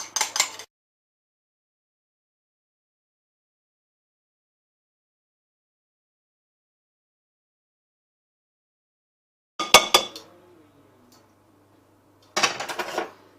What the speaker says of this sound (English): let's add it to the salad and then give it a good mix